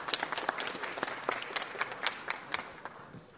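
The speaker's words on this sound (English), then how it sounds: "Let's give her a round of applause." An audience at a city council meeting claps for a senior team captain invited up to speak, a modest group of distinct, uneven claps close by that thins out and tapers toward the end.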